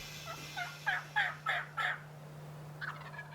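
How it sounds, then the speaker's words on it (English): A wild turkey gobbling at a distance in the woods at morning, with a rapid run of five or six rattling gobble notes and then a softer, shorter burst, set against a steady low hum. "Then all of a sudden he gobbled."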